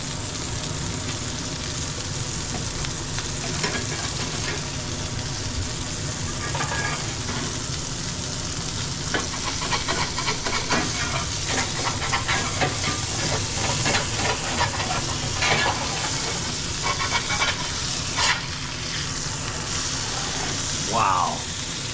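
A smash burger patty sizzles loudly on a hot griddle after being flipped, a steady, close frying hiss with crackles that continues throughout, with faint scraping and clatter now and then.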